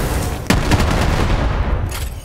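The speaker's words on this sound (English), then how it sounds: "Explosion!" An explosion in the video game Borderlands 3: a sharp, loud blast hits suddenly and rumbles on with crackling debris, then fades. No speech is heard over it.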